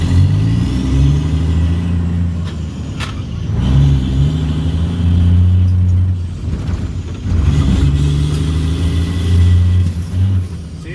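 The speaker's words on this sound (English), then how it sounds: "See, hit it right there. It's almost like a misfire." A 2003 International 2574 truck engine runs loud and close after a fuel line replacement, its steady rumble broken by uneven surges and stumbles like a misfire.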